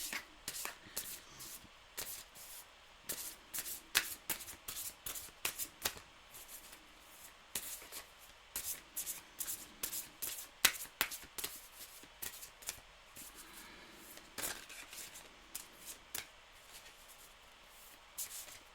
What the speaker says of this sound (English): My guides didn't like that shuffle one little bit.